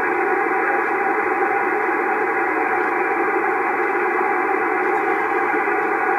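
Shortwave radio hiss fills the 40 meter band on a tube receiver, with faint distant stations murmuring underneath the steady static, unbroken throughout.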